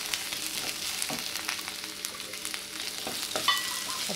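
Chopped onion sautés with a ground paste of ginger, garlic and green chili for a corn curry, giving a moderate, steady frying sizzle broken by a few stirring scrapes.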